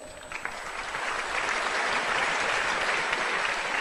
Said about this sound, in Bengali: তাহলে আগে একটা রিহার্সেল হয়ে যাক, হাততালি দেন তো